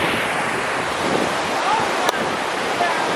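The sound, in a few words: rushing waterfall in Lauterbrunnen, Switzerland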